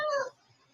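A single short, clear cat meow, close and fairly loud, lasting under half a second before fading to near silence.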